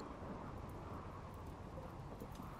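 Steady, faint rainfall in a video game, a low continuous wash of drops with a distant rumbling undertone and no voices.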